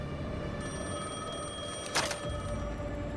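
Telephone ringing in the video game Alan Wake 2, a sustained electronic ring with a brief louder burst near the middle, heard alone with no talking.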